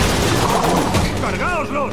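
Video game gunfire from Uncharted 2 during an urban battle, a dense rattle of shots mixed with loud action noise and voices shouting over it.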